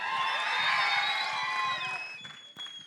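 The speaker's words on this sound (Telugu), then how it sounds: "ఒక్కసారి శివేంద్ర గారి కోసం గట్టిగా చప్పట్లు." Audience at a film's 100-day celebration event cheers and whoops loudly in a sustained burst that fades after about two seconds, with no talk over it.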